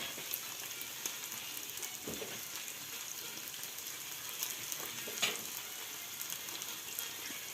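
Anchovies fry in a pan for hamsi tava, giving a soft, continuous crackling sizzle with scattered small pops and faint clicks, fairly quiet and steady throughout.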